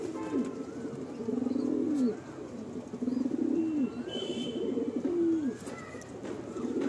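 A pigeon in a loft gives a run of low, rolling coos close by, each phrase swelling and dropping over several seconds, with faint chirps behind.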